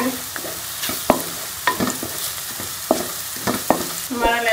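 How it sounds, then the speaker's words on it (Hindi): Garlic paste fries in a pan for a masala fish curry, a continuous close sizzle punctuated by repeated spatula scrapes and taps as it is stirred. "इसके अंदर मैं ये लहसुन का पेस्ट भी डालूंगी, इसको भी हम 2 से 3 मिनट अच्छी तरह से इसके अंदर भूनेंगे"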